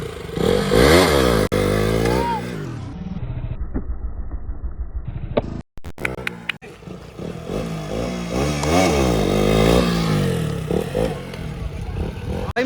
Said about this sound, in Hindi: और यहाँ पे मेरी बाइक राइड करी जा रही है।